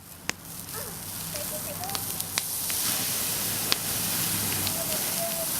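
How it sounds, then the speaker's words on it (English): Roasting lamb sizzles from the heat of the meat, a steady crackling hiss that builds and holds, with a few sharp pops and faint background sounds. "Here it's sizzling from the heat of the meat."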